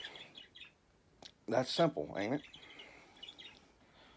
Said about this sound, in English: Sorry about the birds; they've been kind of talkative today.